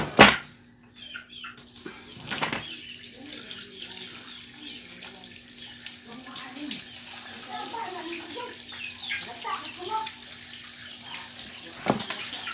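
Wild foraged mushrooms rinsed in a strainer under a flowing kitchen tap, a steady close stream of running water with a sharp clatter at the start and faint background sounds throughout.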